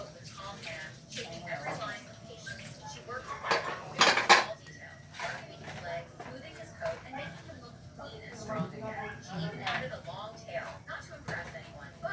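Plastic plates and cutlery clatter on a table in a home kitchen, with irregular light knocks and scrapes and a louder cluster midway, while people talk nearby.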